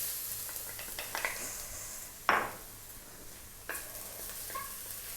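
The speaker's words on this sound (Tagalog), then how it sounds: "Mag-i-start na po tayong maggisa. Unahin natin yung ating garlic." Garlic sautéing in hot oil for Filipino corned beef spaghetti, a continuous sizzle broken by a couple of loud spatula scrapes against the pan, near and without speech.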